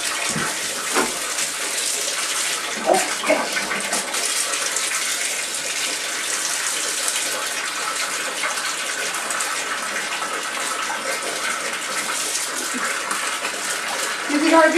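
Water pours steadily into a filling bathtub, a continuous broadband rushing gush that holds at an even level for the whole stretch.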